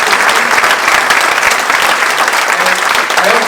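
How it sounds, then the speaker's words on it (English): Loud, sustained applause from a packed emergency town hall crowd for Norm Di Pasquale of NoJetsTO, a thick, even roar of many hands clapping with scattered voices underneath. "can I just ask everybody to give Norm Di Pasquale from NoJetsTo a big round of applause for him"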